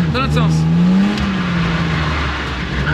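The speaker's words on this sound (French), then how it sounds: "des tout petits coups de gaz, là, vas-y, tout petit coup" Short, gentle throttle blips from a BMW 325i engine during a drifting lesson, rising and falling over a steady engine drone, close and loud, with an instructor's voice speaking over it.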